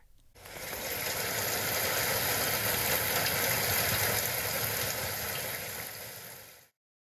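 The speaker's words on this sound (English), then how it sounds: "And the rain did it pour." Heavy pouring rain makes a dense, even hiss that swells in quickly, holds steady for several seconds and then cuts off, with no voices.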